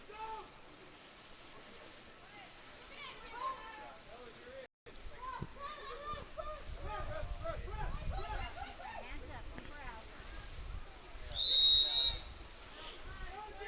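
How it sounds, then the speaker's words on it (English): A referee's whistle gives a short, shrill blast at a women's water polo match between Pacific and San Diego State, heard over continuous commentary and the murmur of the pool venue. "Whistle there against the Tigers."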